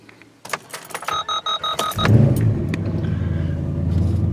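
A car engine rumbles steadily as the vehicle gets moving, preceded by a series of clicks and short electronic beeps; no talking.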